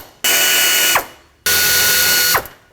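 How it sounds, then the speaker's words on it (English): A ratchet tool backs out 8mm bolts from the wiper transmission of a 1997-2003 Ford F-150 in two close, loud bursts of rapid mechanical whirring, each winding down sharply, with a short gap between them. "Now we can unbolt the wiper transmission from the vehicle."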